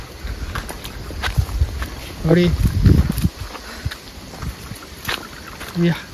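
Gusty wind buffets the microphone with low rumbling roars, rising and falling, while a person speaks intermittently nearby.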